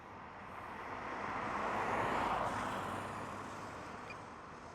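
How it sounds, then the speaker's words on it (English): An airplane passing overhead near the HS2 Chipping Warden green tunnel construction site, a broad, distant engine roar that swells to a peak midway and slowly fades, steady and unaccompanied by talk. "Oh, that's a plane."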